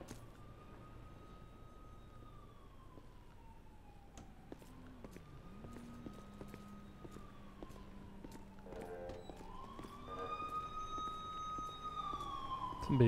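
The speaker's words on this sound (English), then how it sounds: "Somebody's siren is just going off." Police siren from the video game GTA 5, a long wailing tone rising and falling steadily over several seconds, getting louder toward the end, with faint background game noise.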